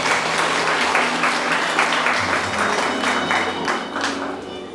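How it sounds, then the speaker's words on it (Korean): Wedding guests at a ceremony applaud after the bride and groom bow to each other. The clapping is steady and fairly close, with individual hand strikes audible and music softly underneath, tapering slightly at the end. "박수 부탁드립니다."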